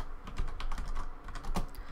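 Rapid typing on a computer keyboard while Windows network commands are entered, with close, crisp key clicks in an irregular run lasting the full two seconds.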